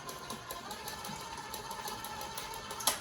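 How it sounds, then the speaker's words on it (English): An electric mixer blends chocolate chunk cookie dough, a steady mid-level whir running through the whole stretch with a brief louder clack near the end; no talking. "I just do it by the mixer because it's super, super quick."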